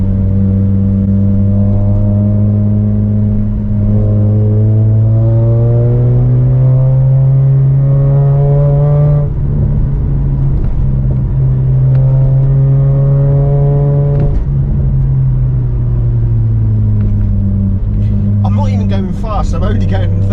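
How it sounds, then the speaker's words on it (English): A Mazda RX8 with a 13B rotary engine and a loud replacement exhaust revs and drones steadily at low speed on narrow country roads, its tone rising and falling through the drive, close and loud with no pauses. "I'm only going 30 through these little country roads, and the din is unbelievable."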